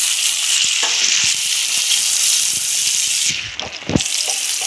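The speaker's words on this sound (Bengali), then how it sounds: "তো আমাদের ভাজা প্রায় হয়ে গিয়েছে, কালারটা এইরকমই আসছে।" Whole spices, leaves and masala for a tarka sizzle steadily in hot oil in a pan. The hiss is close and continuous, with a few brief utensil knocks near the end.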